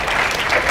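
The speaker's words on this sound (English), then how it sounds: "You're clapping at my failures." Dense audience applause, loud and continuous, from a crowd at a spoken talk, a brief burst of many hands clapping with no voices over it.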